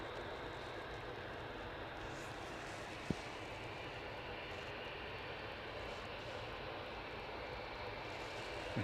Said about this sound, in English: Just coming out now, it's this EasyJet off to Paris Charles de Gaulle. Flight U22107, Airbus A320